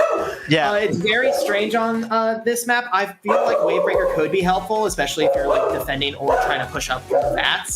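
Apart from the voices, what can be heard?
dogs barking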